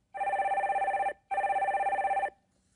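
Telephone ringing as a call is connected on a live broadcast call-in line: two clear electronic rings of about a second each, separated by a brief gap, with no talk.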